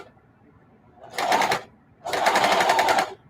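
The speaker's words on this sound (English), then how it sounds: "And as I'm sewing, I'm slowly turning the fabric with my fingers." A sewing machine stitches fabric for a dogbone pillow in two nearby bursts of quick, even needle strokes, a brief one and then a longer run, with a pause between.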